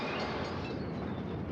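A passenger train called the Quad Cities slips through the station at Oak Forest on the line from LaSalle Street Station to Joliet, making a steady broadband rumble and rush of rolling cars that fills the whole stretch with no one talking.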